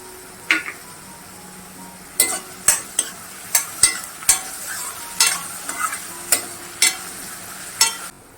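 Onion with crushed green chilli and salt sautéing in a pan for zunka, a low frying hiss under repeated sharp scrapes and clinks of a spoon stirring against the pan, about a dozen strokes in an irregular rhythm.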